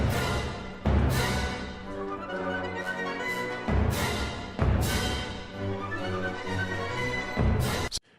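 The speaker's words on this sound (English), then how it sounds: "A portion of the melody is being played by the bassoon, trombone, and tuba" Bassoon, trombone and tuba play a slow, heavy melodic line in orchestral swells, with sharp accented attacks recurring over several bars.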